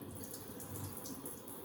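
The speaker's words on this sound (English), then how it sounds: "Preferably, I like to water it by putting it under the running water for a few minutes" A tap runs water over a potted orchid, giving a steady, close splashing rush without a break.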